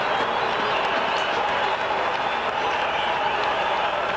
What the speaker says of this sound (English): Everybody on their feet cheering that first dismissal